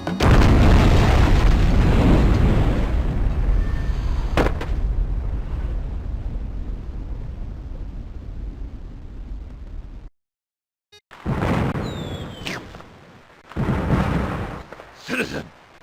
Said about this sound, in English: Those crates are full of firecrackers!